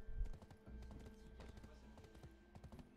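A small pony's hooves clip-clopping in the online game Black Desert Online, a quiet, steady, even trot heard faintly with a soft voice in the background.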